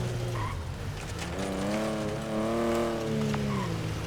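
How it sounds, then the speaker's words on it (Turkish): A car in Grand Theft Auto V, a replica of a James Bond film car, revs with a rising and falling engine tone and tire squeal as it skids around, loud and continuous. "James Bond'un filminde çekilen arabanın replikası oyundaki"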